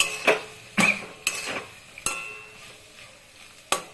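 Spoon stirring watermelon rind curry with lentil fritters and potato in a metal pot, several scraping knocks and clinks spaced irregularly over a soft sizzle, close and moderately loud, no voices.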